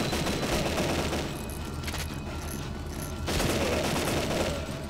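Rapid, dense video-game gunfire rattles almost continuously while holding off a zombie horde in Deadly 30, dipping briefly in the middle before surging loud again.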